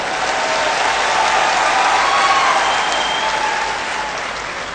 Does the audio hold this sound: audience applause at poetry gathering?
yes